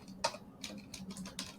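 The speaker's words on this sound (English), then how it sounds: "I can type whatever I need to type" Someone types on a computer keyboard, a quick, uneven run of close key clicks and taps with no talking.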